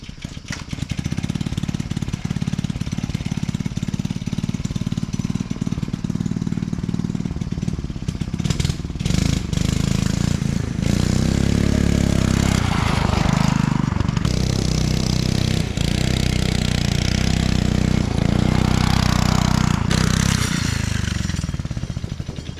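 A junkyard-built go-kart engine runs hard throughout a ride, a loud, rattling, jackhammer-like drone that surges and eases as the throttle changes, close and continuous with no talk.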